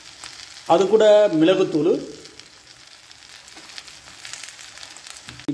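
Tapioca pieces fry in hot oil in a pan, with a steady close sizzle and stirring. A voice speaks briefly at the start over the frying.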